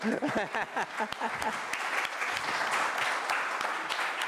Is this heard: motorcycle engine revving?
no